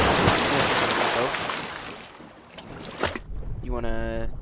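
A boat in the game Teardown surges loudly through water with broad rushing wash and wind, fading toward 2.5 seconds before a sharp crack and a brief whistling, tonal effect at the end; no speech.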